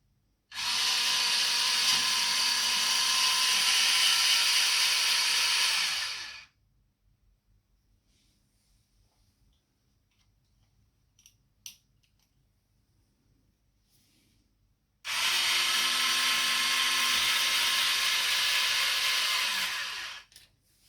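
Electric motor of a Lenco trim tab actuator whirring steadily at close range for about six seconds, stopping into near silence with a couple of faint clicks, then starting again for another five-second run.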